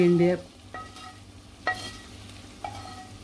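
Okra (bhendi) is added to an oily masala gravy and stirred, with a soft continuous sizzle and a few sharp clinks of a spoon against the pan after a brief louder tonal sound at the start.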